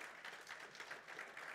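An audience at a rugby squad announcement claps as the president walks to the podium, a faint, soft patter of applause from a smallish crowd throughout.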